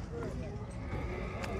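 A horse neighs amid the bustle of a horse and livestock market in Sokuluk, the call partly buried under nearby chatter and crowd noise.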